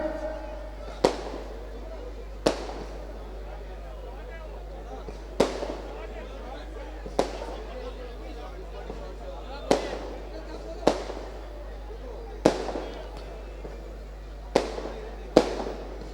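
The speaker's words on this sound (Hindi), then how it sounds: "इस आतिशबाजी को रोकिए जरा।" Sharp fireworks bangs at a Vijayadashami festival go off one by one at irregular intervals, about a dozen loud cracks, with a voice talking over a steady hum between them.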